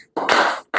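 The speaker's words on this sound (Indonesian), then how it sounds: "Ya, tepuk tangan." A short burst of hand clapping from a group of children in a classroom, close and fairly loud, lasting under half a second and then starting again.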